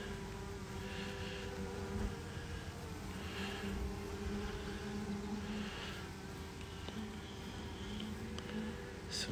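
Honey bees buzzing around a growing hive at an apiary, a continuous soft hum with individual bees droning past in repeated swells, fairly faint and steady throughout.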